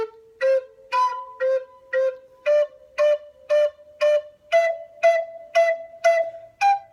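Native American flute playing a pentatonic scale with single tonguing, groups of four short, evenly spaced tongued notes on each pitch, stepping upward, clear and close with no voice.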